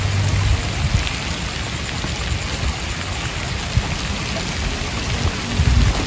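Heavy rain pours over a cemetery in a steady, dense hiss, drops pattering close by on surfaces, loud and unbroken with no voices.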